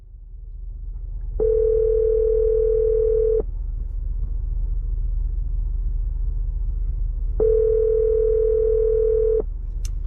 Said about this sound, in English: Is Nancy gonna answer her phone?